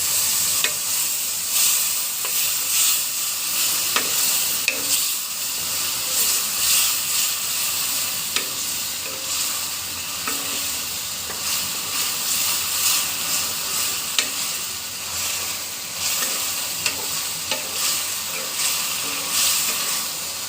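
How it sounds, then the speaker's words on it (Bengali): Spice paste sizzles steadily in a pan as boiled potato and eggplant are added for a potato-eggplant egg curry, a dense continuous frying hiss with occasional stirring scrapes and clicks, close and alone without talk. "মশলাটা খুব সুন্দরভাবে কষানো হয়ে গেছে। এর ভিতরে দিয়ে দিচ্ছি সিদ্ধ আলু এবং বেগুন।"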